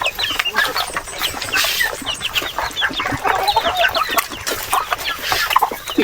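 Chickens and chicks cluck and peep continuously at close range, a busy overlapping chatter of short calls with occasional louder bursts.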